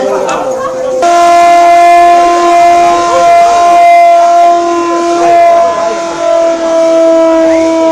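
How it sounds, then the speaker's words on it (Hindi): A steady, loud civil defense all-clear siren holds a single sustained tone after a brief start, droning on without rising or falling, with faint voices beneath. "अब जैसे आप थोड़ी सी आवाज अभी सुन रहे हैं, सुनिए इसको। ये ऑल क्लियर का सिग्नल हो गया है।"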